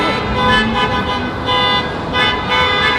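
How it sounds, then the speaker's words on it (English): Car horns honk loudly and continuously on a Toronto street on New Year's Eve, with long overlapping toots over the traffic noise. "People are unnecessarily honking."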